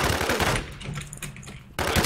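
Rapid automatic gunfire from an LS90 in the online shooter game Infestation, loud close bursts that stop and restart, with a short quieter gap between them and no talk.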